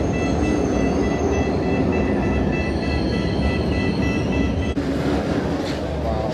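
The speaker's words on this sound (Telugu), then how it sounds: "వచ్చాము మెట్రో నుంచి." A Cairo metro train running, with a loud continuous rumble and rattling wheels heard from close by and steady throughout, plus faint high whine tones above.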